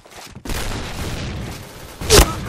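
Dense bursts of gunfire in the online shooter Point Blank, a sustained rattle of shots followed by one louder, sharp blast near the end.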